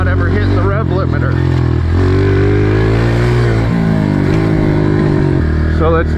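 A Honda CRF125F motorcycle engine revs up repeatedly, its pitch climbing and falling in close, loud surges without hitting the rev limiter, while a voice talks over it.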